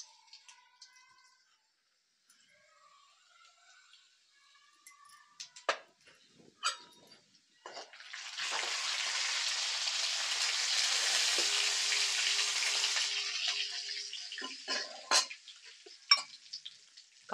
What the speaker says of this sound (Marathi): तर आपण जिरी टाकूया पहिली.